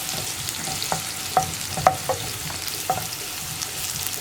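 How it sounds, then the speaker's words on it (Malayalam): Onions sautéing in a pan for egg pappadam rice, a continuous low sizzle with occasional light clicks and scrapes of a utensil, no talking. "നമ്മൾ കട്ട് ചെയ്ത് വെച്ചിരിക്കുന്ന സവോള ചേർത്തിട്ട് നന്നായിട്ടൊന്ന് വഴറ്റിയെടുക്കണം"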